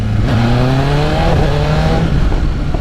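A Ford Mustang's engine revving steadily with a newly fitted muffler, a smooth rising and falling drone that holds continuously for a few seconds at close range, with no voices.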